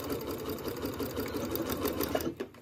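Close, steady whir of a sewing machine back stitching the start of a quilt block seam on a disappearing nine-patch, running continuously before cutting off near the end.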